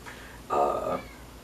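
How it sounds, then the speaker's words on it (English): A house cat meows once to be let in, a single drawn-out, fairly loud meow close by, with quiet room tone before and after. "This podcast has been interrupted by a kitty cat that I must let in."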